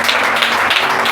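A church congregation at a Hindi worship service claps together, producing a dense, steady patter of many hands that fills the room loudly without pause, with no talking over it.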